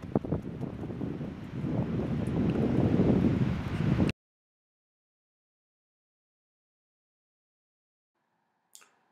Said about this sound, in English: we came to this very windy town